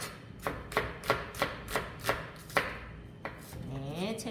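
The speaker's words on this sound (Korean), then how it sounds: "먼저 양파를 채 썰어 주시면 되겠습니다" Knife julienning an onion on a cutting board: about nine crisp, evenly spaced chops, then the cutting stops and a faint voice-like tone follows.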